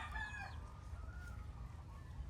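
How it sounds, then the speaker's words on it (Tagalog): Chickens roaming a farm in Hawaii, with a rooster's crow and clucking heard near the start, then fading into a low, steady outdoor background rumble. "yun po mga manok. Namamasyal lang sila dito."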